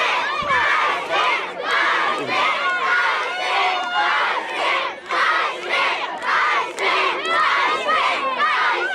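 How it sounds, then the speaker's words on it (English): Wrestling crowd at an indoor NBW Squared Circle show in Mack's Creek, Missouri, with many children shouting and chanting together in loud, rhythmic bursts that continue steadily throughout. "the crowd saying bald is better"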